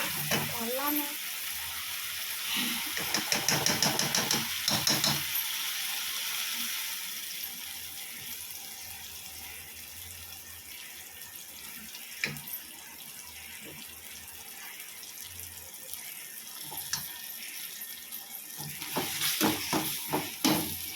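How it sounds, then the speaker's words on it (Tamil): Ginger garlic paste fries with softened tomatoes in a pan for chicken thokku, giving a close sizzle that swells loud at the start and end, dips quieter in between, and is broken by occasional stirring clatter. "இஞ்சி பூண்டு பேஸ்ட் போடலாமா?"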